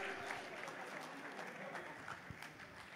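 Applause from an audience at a film success meet, honouring the music team, a dense steady clapping sound that is quite faint and distant, with some crowd noise mixed in.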